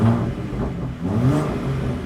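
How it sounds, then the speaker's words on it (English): A 2021 Ford F-150 Raptor's six-cylinder engine gives a brief neutral rev in Baja exhaust mode, a close, rising and falling mid-pitched roar lasting about two seconds. "we'll give it a little neutral rev in Baja"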